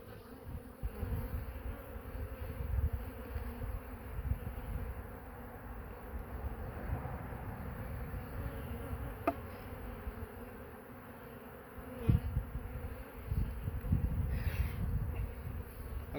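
Honey bees buzz steadily around a hive during hive-beetle cleanup, a dense close hum that runs throughout with a few sharp knocks and taps near the middle and end.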